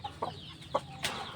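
A prized, valuable rooster of good breed clucks softly, a few short, quiet clucks spaced apart over faint background noise.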